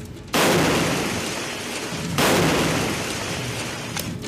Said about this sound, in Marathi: स्फोटकांनी उडवला अलिबागचा बंगला।